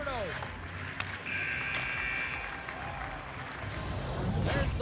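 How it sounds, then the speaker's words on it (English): A hockey video game's period-end buzzer sounds as a long, steady electronic blare for about a second, over crowd noise and under a commentator's voice. "There's the buzzer."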